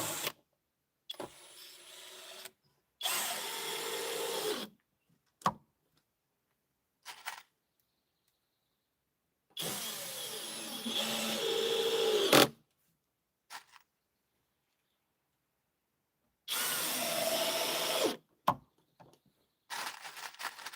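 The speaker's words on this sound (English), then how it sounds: "And let's start screwing these in." A drill drives screws into wood while an outhouse is built at an off-grid cabin site. Several loud, close bursts of a few seconds each are separated by silent pauses, with no talking.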